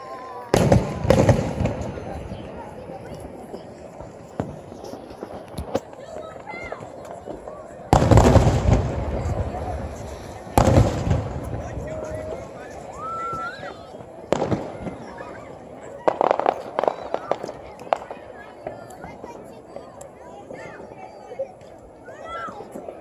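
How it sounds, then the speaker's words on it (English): Fourth of July fireworks bursting outdoors, several loud booms spaced unevenly with crackling tails and quieter pops between, while people talk and react in the background. "Fireworks are the most majestic things ever made."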